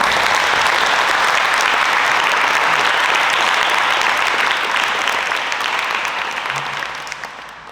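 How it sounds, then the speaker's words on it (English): An audience applauds a junior police academy at a police department ceremony, with thick, loud clapping that holds steady before tapering off toward the end. "So please, another round of applause."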